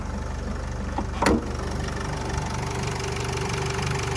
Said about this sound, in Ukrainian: автомобіль дизельний, а я легенько-тихенько говорю і ну, мотор не заважає. Працює дуже тихо.